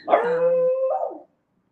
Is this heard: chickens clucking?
no